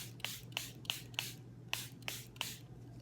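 Coffee sprayed from a spray bottle onto fabric for primitive-style dyeing: seven short, crisp spritzes at a steady, unhurried pace, close and fairly quiet over a low background hum, with no talking.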